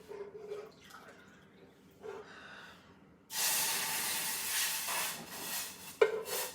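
Hot water poured from a kettle for a home-cooked Ayurvedic detox dish, a steady hissing splash that starts abruptly after a few quiet seconds and runs on fairly close, following faint earlier clatter.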